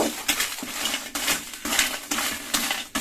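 Dried chillies dry-roast in a pan without oil over a medium flame, giving repeated rattling, scraping scrunches as they are stirred and tossed, close and fairly loud at a steady rhythm, with no speech.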